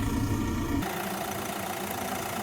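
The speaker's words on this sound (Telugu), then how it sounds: "ఇంజన్ సౌండ్ చూపిస్తా చూడండి ఒకసారి" A 2016 Hyundai Creta SX+ diesel engine idles with a steady, close mechanical rumble and a slight knocking tone, continuous throughout and free of speech.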